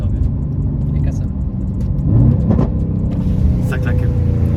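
A Mercedes C63s AMG on the move gives off a deep, steady engine rumble that swells briefly midway, with people talking over it inside the car.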